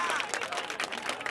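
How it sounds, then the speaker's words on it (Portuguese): Crowd at a Brazilian rap battle clapping and cheering for the rappers, a short burst of dense applause mixed with shouts and voices, loud and close. "Palmas pra batalha."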